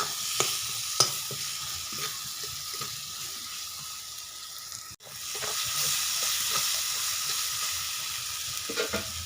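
A masala with chilli powder is sautéed in a pan, producing a steady close sizzle with occasional spatula scrapes. There is a brief dip near the middle, and no one speaks.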